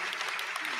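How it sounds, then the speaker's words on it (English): Brief burst of audience applause at a talk with ballet dancers, a dense steady patter of clapping at moderate volume, cut short after under a second. "I want to give them time to clap"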